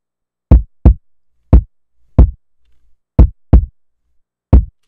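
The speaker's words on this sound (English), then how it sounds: "now that I've got it isolated down to completely the kick transients" Seven kick drum hits isolated from a drum break thump in a loose, syncopated pattern, punchy and dry, with silence between each beat.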